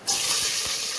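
Garlic dropped into hot oil already holding mustard seeds and cumin for a dal rice dish sets off a sudden, steady sizzling hiss that holds close and even to the end.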